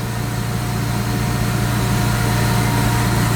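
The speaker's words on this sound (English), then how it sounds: "I don't know why the idle is so high, it's kind of weird." A supercharged BMW E36 M3 sits at a steady, elevated idle, its low, even engine drone holding close and constant with no talk over it.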